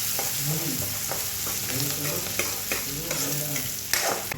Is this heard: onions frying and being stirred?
yes